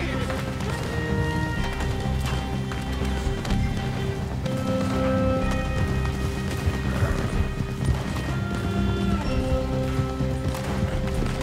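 Horse hooves clip-clop at a rapid gallop in the Red Dead Redemption 2 video game, steady and close under music, gunfire and shouting voices.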